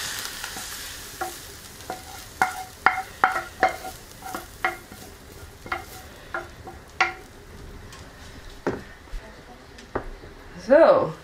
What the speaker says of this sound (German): ich gebe jetzt den Inhalt der Pfanne auch noch mit rein